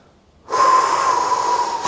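One long, forceful breath drawn in deliberately as a calming exercise, loud and close, starting abruptly and holding steady for over a second with a faint whistling edge.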